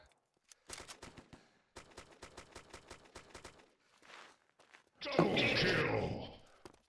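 Rapid bursts of automatic gunfire from the video game Arma 2 during a gun game community match: two long strings of closely spaced shots, then a louder, denser roar of fire near the end.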